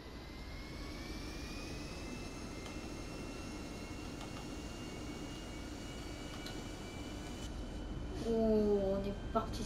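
A passenger jet speeds down the runway for takeoff, a steady broad engine roar with rising whine tones filling the whole clip, a brief voice surfacing near the end.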